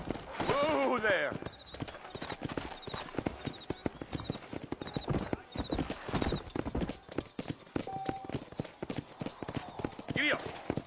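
Horse hooves clip-clop in a steady walking rhythm in the Red Dead Redemption video game on Xbox One, close and clear, with a brief whinny near the start and voices speaking over the hoofbeats.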